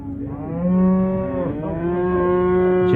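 A cow at a livestock bazaar near Almaty gives one long, loud, close moo that rises and holds for about three seconds, with no talk over it.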